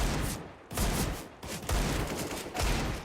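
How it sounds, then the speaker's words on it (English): Rapid bursts of gunfire from a Counter-Strike match, several loud volleys separated by brief gaps, played close and alone without talk. "Shots being missed"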